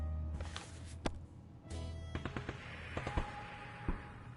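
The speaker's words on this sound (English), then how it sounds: "Oh, I hear gunshots." Gunshots in the survival game 60 Seconds! Reatomized sound as scattered sharp cracks and pops, some close together, over a rumbling game backdrop at moderate volume.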